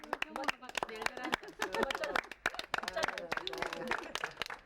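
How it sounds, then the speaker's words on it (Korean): A family claps together at a home gathering, the quick, fairly faint hand claps running under overlapping voices that seem to talk or sing along. "자, 박수."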